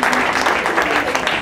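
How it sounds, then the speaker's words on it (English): Audience applause at a live comedy talk on stress, a steady dense patter of many hands clapping filling the short moment at fairly even loudness. "Give a nice round of applause"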